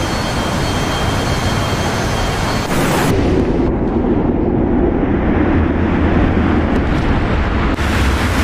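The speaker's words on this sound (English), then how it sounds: "Loads of AMRAAMs hitting, guys. So many AMRAAMs hitting." Missiles striking and exploding in a Eurofighter air-combat video game recreating the Dresden bombing: a loud, continuous roar of blasts and rushing noise fills the whole stretch, with a deep rumble building underneath.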